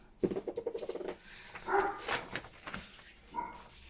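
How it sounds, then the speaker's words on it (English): A dog barks indoors in a quick run of sharp yaps, then gives a few whiny, softer barks, fairly close by. "I don't know what he is barking at"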